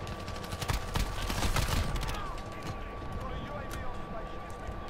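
Rapid bursts of M13 assault rifle fire in Call of Duty: Modern Warfare crackle close and loud for about two seconds, then fade into scattered softer game noise.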